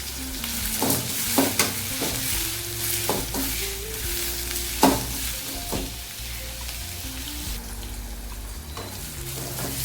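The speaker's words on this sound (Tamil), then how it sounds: "வெங்காயம் நல்லா வதங்கட்டும்." Onions sauté in oil in a pan for brinjal curry, giving a steady sizzle. Occasional scrapes and stirring clatter rise above it, close up and with no talking.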